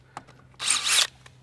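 A drill bit running in reverse chamfers a screw hole in a boat's gel coat on a skiff, a brief close whir lasting about half a second, framed by faint clicks.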